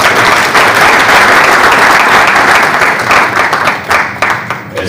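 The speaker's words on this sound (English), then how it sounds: "Give them a round of applause." Sustained, loud applause from an audience at an anti-corruption event organized by CAJA, dense and steady before thinning out toward the end.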